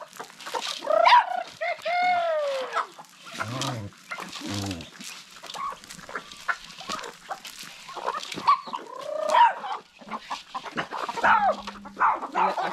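Chickens and chicks on a farm cluck and peep in scattered bursts, with clear high cheeps and lower clucks close by and occasional soft background noise.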